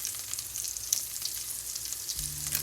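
Breaded chicken breast, dipped in egg wash and flour, fries in hot grease with a soft, steady crackling sizzle and fine spitting pops throughout, and a low hum joins near the end; no speech.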